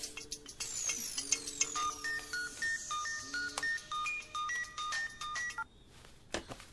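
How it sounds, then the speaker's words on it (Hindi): A telephone ringtone plays alone, a bright melodic electronic tune of repeating stepped tones that keeps ringing for several seconds, fairly loud and clear, then cuts off near the end. "अरे यार फोन तो उठा।"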